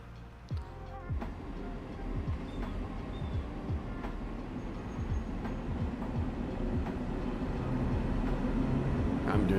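A Metro-North commuter train pulling away from Grand Central Terminal on the Harlem Line in Train Sim World 2, with a steady low rumble and rhythmic wheel clunks that grow gradually louder as it gathers speed, with a voice speaking faintly over it.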